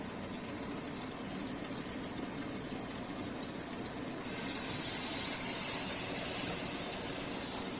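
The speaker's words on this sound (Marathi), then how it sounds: "त्याच्यानंतर मी या ठिकाणी सोया सॉस ऍड करते." Soy sauce poured into a hot pan of gobi manchurian, just after chili sauce, brings a faint steady hiss that swells louder and brighter midway through, with no talking.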